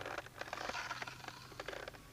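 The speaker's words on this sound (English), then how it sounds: "That is the sound of an overpressure release valve" The overpressure release valve on a vintage Super Soaker XXP-275 water gun vents under high pressure, giving a faint, rapid crackling and sputtering hiss in irregular bursts, with no one talking.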